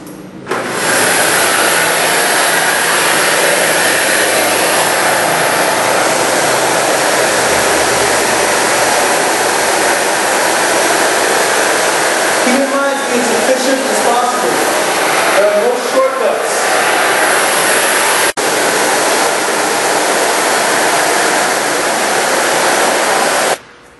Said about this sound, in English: Once you vacuumed all the plastic sheathing and the walls